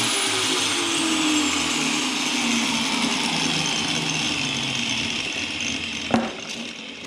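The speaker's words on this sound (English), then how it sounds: "So the first thing we're gonna do is we're gonna cut that retainer ring off." A power tool, probably a cutoff wheel, whines steadily while cutting off a coil-over retainer ring on a Miata build, close and continuous, with its pitch slowly dropping under load and a brief sharp clink near the end.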